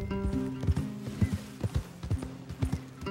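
Horses' hooves clip-clop in Red Dead Redemption 2, with steady irregular thuds and some low creaking and tonal game sounds underneath, fairly close and moderately loud.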